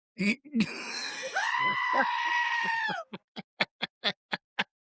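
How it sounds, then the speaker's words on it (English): A goat lets out a long, loud, wavering scream lasting well over a second, followed by a quick run of short sharp clicks or taps. "Here comes the goat."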